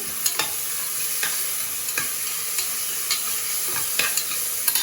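Curry leaves frying in oil in a pan while cooking a cauliflower and peas veg pulao, giving a steady soft sizzle with repeated light stirring clicks throughout.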